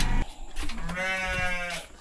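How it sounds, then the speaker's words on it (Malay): A goat bleats at a goat farm, a single drawn-out, wavering cry held for well over a second, close and fairly loud, following a brief burst of noise at the start. "Hei, kambing."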